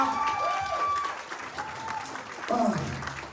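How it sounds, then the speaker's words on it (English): An audience applauds a contestant at the Talent Search Cymru 2022 semi-final results, with steady, dense clapping throughout while a presenter talks over it. "Round of applause for Aaron,"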